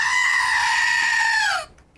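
A goat bleats once as a sound effect, a loud, sustained nasal cry that wavers slightly and then cuts off abruptly, leaving near silence.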